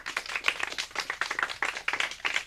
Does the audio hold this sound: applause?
yes